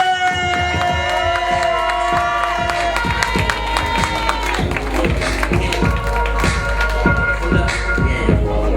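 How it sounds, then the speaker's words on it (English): A crowd at a spoken-word performance at an awards event claps and cheers for the next poet. Scattered claps and shouts sit over sustained music, loud and steady throughout. "Y'all give a round of applause for Taalam, Acey!"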